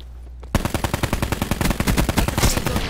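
Rapid automatic gunfire rings out in a shooter video game, starting abruptly after a brief hush and continuing as a fast, loud string of closely spaced shots.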